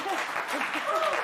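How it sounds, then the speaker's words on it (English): An audience breaks into applause after a fart joke on a TV news talk show, a steady wash of clapping with a voice speaking over it. "Applause for farting."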